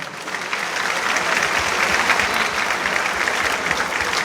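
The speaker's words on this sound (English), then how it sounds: "A round of applause for" A crowd at a school speaker series breaks into loud, sustained applause, a dense wash of many hands clapping evenly throughout, with faint crowd murmur beneath.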